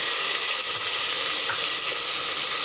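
Tomatoes hit a pan of frying cumin and black pepper for aloo matar pulao, giving a steady, loud, close sizzle with faint stirring, no voices.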